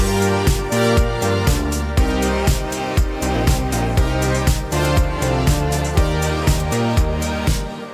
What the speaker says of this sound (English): having lower chords and the higher bass line and the same type of like synth sounds I had before.